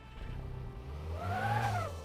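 A car engine in Car Mechanic Simulator turns over and revs up, a faint, low rumble that rises in pitch briefly, with no talking.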